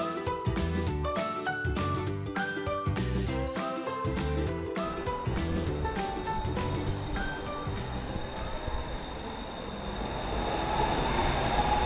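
A BTS Skytrain train at the Ekkamai station platform in Bangkok gives a steady, loud rumble with repeated rhythmic clunks and a high-pitched whine, continuous throughout with no talk.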